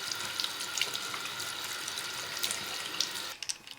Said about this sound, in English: So give them a good rinse.